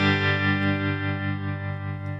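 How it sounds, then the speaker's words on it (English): Electric guitar played through an amp on a tremolo preset, a sustained distorted chord with a steady pulsing swell in volume, loud and close with no voices. "preset 4 is going to turn on my tremolo"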